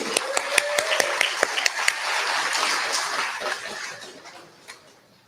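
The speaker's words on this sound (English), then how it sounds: "You guys give yourself a round of applause too." Steady applause from a crowd at a political rally in Dearborn, Michigan, with sharp individual claps standing out near the start before the clapping thins and fades.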